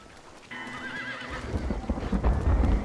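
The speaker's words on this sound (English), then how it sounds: "You're my horse now." Horse in Red Dead Redemption whinnies with a wavering, rising-and-falling neigh, followed by hoof clip-clops and rumbling rain and thunder in the background.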